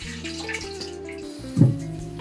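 Water runs and splashes over soaked white rice being rinsed in a kitchen, a short close trickle with a brief louder gush near the end.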